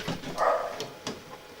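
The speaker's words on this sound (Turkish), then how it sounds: "E, sustur şu köpeği." A dog barks indoors in a few short, sharp bursts close to the microphone, with brief pauses between the barks and no talking over them.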